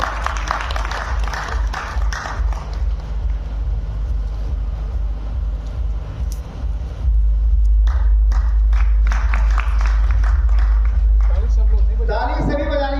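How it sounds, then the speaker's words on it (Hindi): An audience at a health event claps hands, loud and continuous rhythmic clapping building in the second half, with someone talking over it at first. "ताली सभी बजानी है 2 मिनट के लिए"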